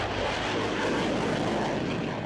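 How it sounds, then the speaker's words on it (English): Steady, loud broadband roar of an F-35 Lightning fighter jet at an air show, a continuous close engine rumble sustained with no break and no talking. "The crowd had just felt the thunder of an F-35 Lightning fighter jet."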